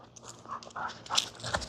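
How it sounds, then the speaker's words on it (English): A dog on a desert walk gives a few short, sharp yelps and whimpering barks mixed with panting, close by and fairly quiet, in irregular bursts with no speech. "Don't know what she's barking at"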